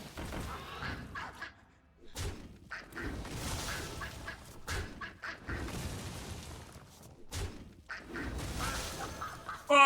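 Mother Duck cards in the Hearthstone video game release a burst of duck quacks and honks, layered and repeating in bunches with short pauses between, at moderate loudness.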